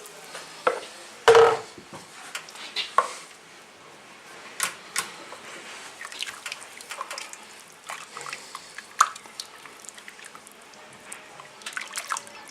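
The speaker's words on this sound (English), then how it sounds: "we can now add the rest of the stock" Chicken stock pouring into a soup pot for cream of chicken soup, with soft liquid splashes and drips over quiet kitchen background. One louder splash stands out early, followed by scattered light trickles.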